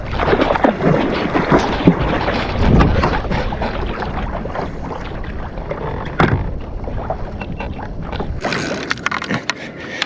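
Kayak paddling on the open sea offshore off the Gold Coast while trolling for mackerel, with rhythmic paddle splashes and water rushing over steady wind buffeting the microphone, close and continuous.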